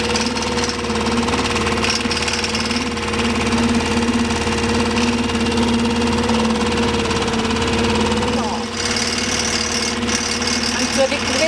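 A boat's outboard motor runs at low power along a canal, a steady droning hum with a low rumble that holds evenly throughout, close by and fairly loud, with no talking over it.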